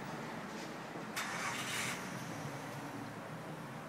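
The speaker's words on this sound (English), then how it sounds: "Starts first turn of the key." A cold start of an Ortec Rider car's engine: a brief cranking burst leads into a steady low idle that continues at moderate loudness, heard alone with no talking.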